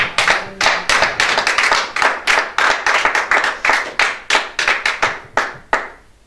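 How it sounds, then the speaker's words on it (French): A church congregation claps together in praise of Jesus, a dense run of rapid sharp hand claps in a lively rhythm, loud and close, trailing off at the end. "On acclame Jésus."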